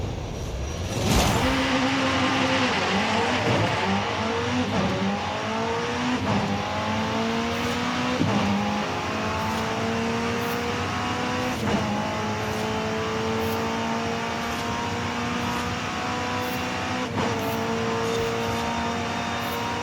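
Engines rev and roar in Forza Horizon 5 running on an Xbox One X, a loud continuous racing drone with rising gear-shift sweeps and brief tire noise, no one speaking.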